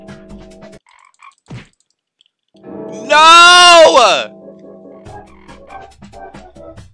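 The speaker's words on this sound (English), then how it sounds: "there's one more frog." A loud, drawn-out cartoonish frog croak from a video game, with sliding pitch, comes after short game blips and a player's brief shout.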